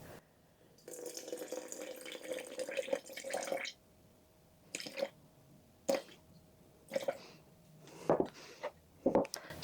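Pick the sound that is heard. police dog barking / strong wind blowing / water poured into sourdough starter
water poured into sourdough starter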